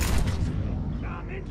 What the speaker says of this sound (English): you're going to hear constant explosions in the background. What these are biotic explosions triggered by one setup ability and one detonating ability.